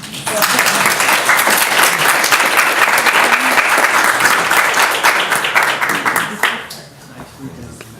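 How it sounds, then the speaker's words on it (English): A large audience stands and applauds at the Durham 150 kickoff event, with dense, loud clapping sustained for several seconds before it fades out near the end. "So I think that we ought to stand up and clap for all of us."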